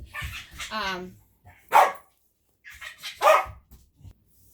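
A dog barks sharply twice amid bursts of excited voices, with quiet gaps between.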